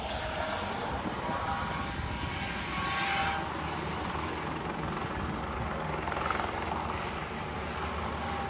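A helicopter in flight, rendered as a steady, loud, continuous rotor-and-engine drone that holds throughout without any voices, brightening briefly near the middle and toward the end.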